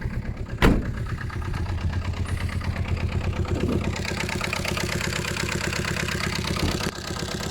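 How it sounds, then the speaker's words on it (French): A car engine idles in a steady, close, even rhythm. A sharp knock comes early on, and the low mechanical chug continues throughout without voices. "On va montrer le moteur."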